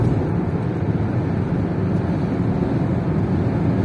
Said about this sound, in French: y a le bruit du moteur